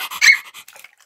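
A person imitates a dog with a short, close, loud yelping bark that squeaks and trails off, alone with no other talk.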